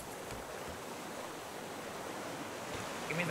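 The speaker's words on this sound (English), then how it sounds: "Oh, fucking waves." Steady ocean surf washing around a player's raft in the survival game Raft, a continuous broadband rush of waves at moderate level with no talk.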